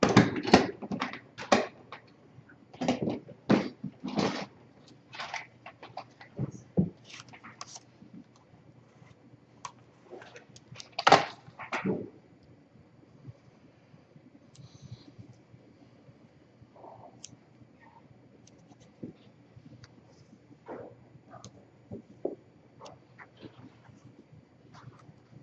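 Blade cuts through strips of corrugated paper taped down to a surface. The cuts come as sharp, close ticks and scraping strokes in bursts for the first twelve seconds, then sparser, fainter clicks follow.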